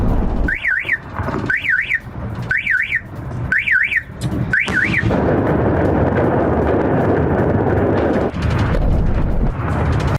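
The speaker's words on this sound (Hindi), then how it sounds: "इराक के बसरा प्रांत में धमाकों की आवाज सुनाई दी" A car alarm wails in repeated warbling bursts, then heavy low rumbling booms and roaring noise from air strike explosions in Iraq's Basra province fill the rest, like distant explosions.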